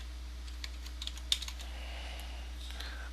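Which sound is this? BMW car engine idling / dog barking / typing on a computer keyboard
typing on a computer keyboard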